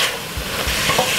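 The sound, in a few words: stir-frying cabbage in a pan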